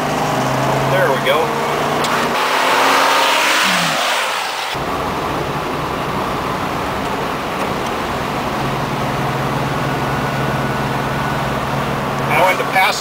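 A 1959 Chevrolet Bel Air with a 283 V8, four-barrel carburetor, three-speed column shift and overdrive, accelerating hard on the road: a loud, rising engine roar with strong road and wind noise, then a steady drone while someone talks.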